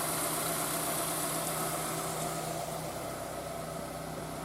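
A Mazda CX-7 engine idles just after its exhaust manifold has been replaced, a steady, even hum running continuously at moderate level with no other sounds.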